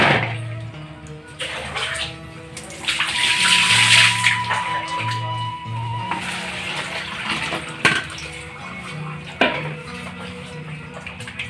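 Tap water runs steadily while ingredients for a Sundanese sambal are washed in a home kitchen, a continuous splashing wash that swells and ebbs with a few clinks of handling.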